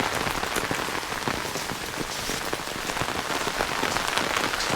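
A heavy monsoon downpour in the mountains at Mukteshwar pounds steadily on nearby surfaces, a dense, loud, unbroken hiss of rain.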